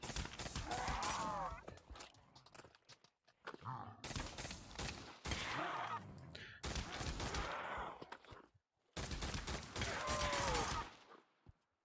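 Gunfire rattles in a zombies video game as bursts of rapid shots and dense fusillades come in several loud stretches broken by short gaps, with game sounds mixed in.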